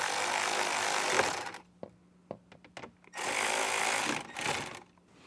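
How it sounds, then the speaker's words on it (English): Power screwdriver driving screws to mount a Kicker 1-inch KS component tweeter in a 2024 Jeep Wrangler dash, two loud whirring bursts close up separated by quiet with a few small clicks, no talk. "Let's just go ahead and screw that down."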